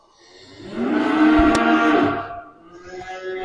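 A cow on a farm lets out one long, loud moo, close by, rising and then fading away, followed by quieter low noise from the livestock area.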